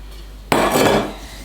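A wet fruit mixture drops with a sudden clattering thud into a bowl of creamed butter and eggs, with a short scrape and clink against the bowl before fading.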